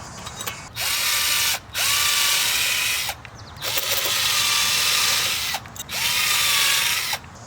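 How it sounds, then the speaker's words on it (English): A power drill bores pilot holes for a metal gate latch on a wooden post, three loud sustained whirring bursts separated by short pauses. "now that my pilot holes are drilled"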